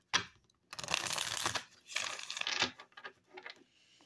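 Tarot cards being shuffled by hand in a quiet room, a soft papery riffling in several bursts, close and faint with no talk over it.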